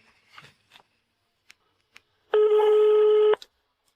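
A telephone call is dialed: a few faint keypad clicks and beeps, then a loud, steady electronic ringback tone lasting about a second.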